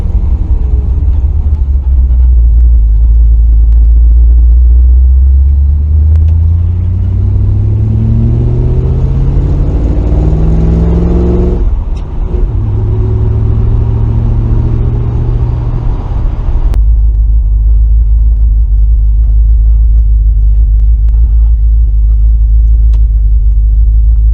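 A 1968 Ford Mustang engine rumbles loudly and close while driving, its low drone rising in pitch as it accelerates through gears before settling into a steady deep hum.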